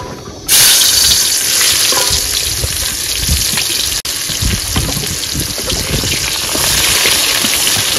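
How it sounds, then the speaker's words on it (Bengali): Onion lightly frying in a pan by a river: a loud, dense hiss bursts in suddenly and holds steady and close for several seconds, with no talking. "এখন পেঁয়াজটা হালকা করে ভেজে নেবো।"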